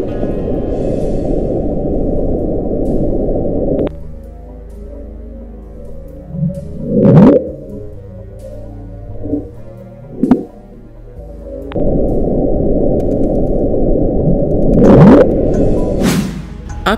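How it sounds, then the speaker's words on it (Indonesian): Underwater recording of Antarctic ice breaking, the sound known as the Bloop: a deep, rumbling low-frequency roar that drops away and then swells back, with a few sharp rising sweeps and clicks, heard alone. "suara tersebut bukan berasal dari hewan laut, melainkan bongkahan es yang pecah dari Antartika"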